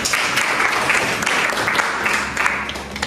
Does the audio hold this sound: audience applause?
yes